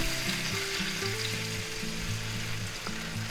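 Minced garlic sizzles steadily in hot oil in a pan, a dense continuous crackle close up with no voices, plus faint tonal hum from the kitchen underneath.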